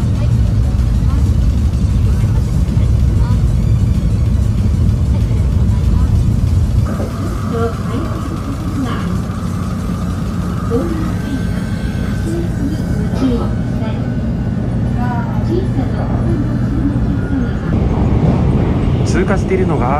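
The Nozomi 64 Shinkansen speeds through Himeji station without stopping, heard as a loud, steady rushing rumble with a shift in tone partway through, while a voice talks over it.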